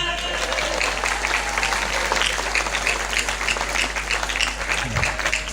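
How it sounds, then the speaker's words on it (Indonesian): Audience applause at a charity auction led by Islamic preachers, a dense steady wash of many hands clapping that holds throughout, with a voice speaking over it. "Tepuk tangan."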